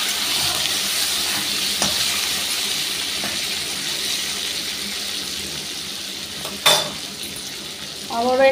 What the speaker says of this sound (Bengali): টমেটোগুলো লাল লাল করে ভেজে নেবো